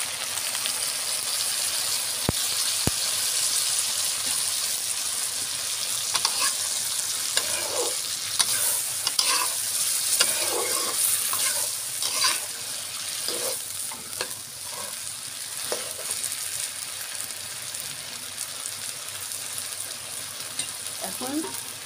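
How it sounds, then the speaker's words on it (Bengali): Taro stolons coated in mustard paste fry in a pan, a constant crackling sizzle with repeated scraping stirs and occasional sharp clinks, settling into a quieter hiss toward the end. "দিয়ে আস্তে আস্তে করে লতিটা সুন্দর করে ভেজে নেব।"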